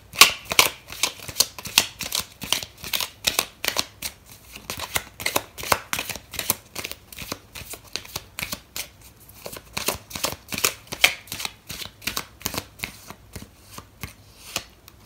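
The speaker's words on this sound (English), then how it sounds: "I'm going to pull out another card for you" A deck of tarot cards shuffled by hand, with steady rhythmic flicks and slaps repeating close up for the whole stretch. No voice is heard.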